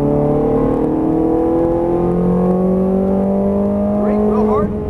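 A Ferrari F430 Scuderia accelerating at full throttle down a track straightaway, its engine note climbing steadily in pitch as it pulls through the gears, loud and continuous from the cabin, with a brief lift near the end.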